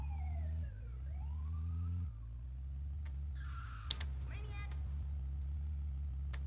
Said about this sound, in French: Les ambulances de l'époque à GTA,